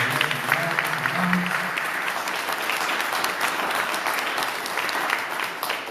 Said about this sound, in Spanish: Vamos a dar un fuerte aplauso a la palabra de Dios.